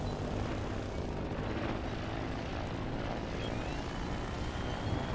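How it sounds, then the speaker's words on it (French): A helicopter flies in the video game Trailmakers, making a steady, droning rotor and engine hum that holds throughout at moderate loudness with no talk over it. "Pourquoi je peux pas faire du vol stationnaire avec cet hélicoptère?"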